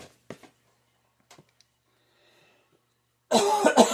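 Scattered faint clicks and breaths, then a loud, close burst of harsh coughing near the end.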